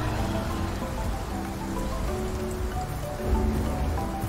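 Steady rain falls in the Path of Titans dinosaur game, a dense, even hiss of drops continuing throughout with no voices and a slight swell near the end.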